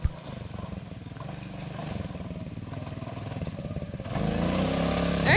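A Sunl SLA 90cc Chinese four-wheeler revs hard through a burnout in the woods, its small engine droning steadily and then surging louder near the end, with clattering underneath.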